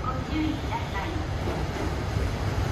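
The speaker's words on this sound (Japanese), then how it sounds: "6番線に列車が到着。" A KiHa 183 series diesel limited express train, the Okhotsk, pulls into platform 6 at Takikawa Station, a steady low rumble and broadband rail noise running throughout at moderate loudness, with faint announcement-like voices in the background.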